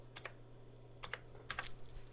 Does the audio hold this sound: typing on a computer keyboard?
yes